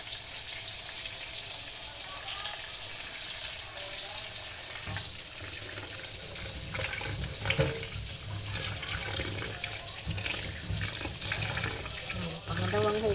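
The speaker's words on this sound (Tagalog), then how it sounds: "hugasin natin ulit ang ating kalabasa, ang ating talong, ang ating saluyo" Tap water running steadily into a sink while squash, eggplant and jute leaves are washed, with splashes and handling noises over the flow and a voice talking at times.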